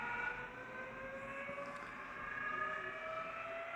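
Rapido N-scale Amtrak Turboliner model train sound unit starting up its motors, a steady whining turbine-like drone with sustained tones and a slight rise and swell, heard alone without talk.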